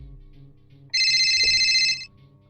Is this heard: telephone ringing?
yes